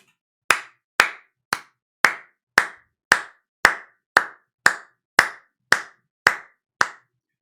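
A character in the anime Oshi No Ko claps alone, thirteen sharp, evenly spaced hand claps at a slow, deliberate pace, close and crisp with quiet gaps between them.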